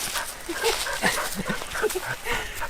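A dog makes short whimpers and yips near a camper van while the parked vehicle is broken down in France; the sounds come in scattered bursts close by, with a little background noise.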